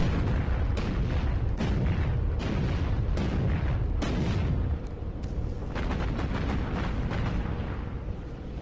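Main battleship cannons firing in the naval combat game Battlestations Pacific, a rapid series of loud, booming blasts that overlap into a continuous rumbling barrage, with a slight drop in intensity partway through.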